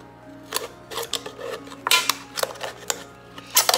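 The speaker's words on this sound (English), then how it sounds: "Poke a hole in your can with your scissors and just go around in a circle." Irregular sharp metallic clicks and scrapes close up, as scissors poke a hole and cut around in a circle through a thin metal can, over a low steady hum.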